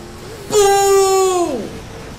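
Car engine revving up in the Midnight Club 3 street-racing video game, apparently a Chevrolet SSR, a loud rising then falling whine lasting about a second.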